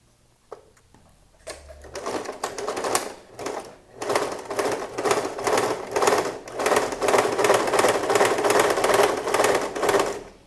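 Sewing machine stitching the back pocket of a dress trouser, running in steady rapid bursts with brief pauses early on, then continuous close-up stitching.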